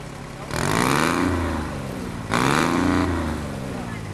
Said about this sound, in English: The one coming behind it is much the same tractor, but it's got a 3-cylinder, 2-cycle Detroit diesel.